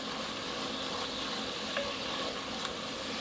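Beef cooking in a pot for French-style red wine beef, a steady broadband sizzle and hiss running throughout with a faint clink or two, no talking.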